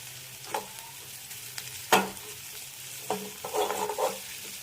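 Curry leaves sautéing over low flame in a pan with lightly browned onions: a soft background sizzle with a few scattered stirring scrapes and one sharper clink, quiet and close, with no talking.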